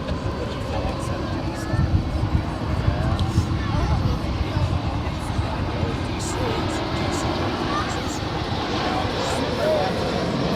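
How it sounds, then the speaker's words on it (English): An American Airlines Airbus A321 arriving from Cancun at Dallas DFW airport, its engines a steady broadband roar that swells slightly and holds throughout, moderately close, with no talk over it. "Our next arrival is American Airlines Flight 2207 coming in from Cancun,"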